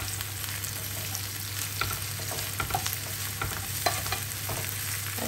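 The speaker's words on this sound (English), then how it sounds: "we're gonna cook those onions until they are slightly tender before we add our mushrooms" Onions sautéing in oil in a pan before mushrooms go in for a creamy garlic mushroom chicken dish, a dense continuous close sizzle with scattered crackles and pops, no voices.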